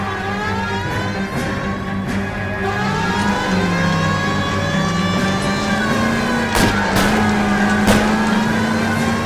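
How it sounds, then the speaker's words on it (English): Car engine droning and shifting pitch during a police chase in the video game L.A. Noire, steady and fairly loud, with siren-like wails and a couple of sharp bursts near the end, no talk. "That's Kelso's car."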